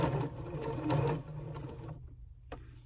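A sewing machine stitches around a corner in a quarter-inch seam, giving a faint, quick mechanical whirr and clatter for about two seconds before it stops, then a brief soft click.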